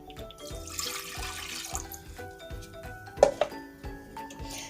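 Two cups of water pour into a pot with a trickling, splashing sound, a few light clinks of metal in between, fairly close and quiet.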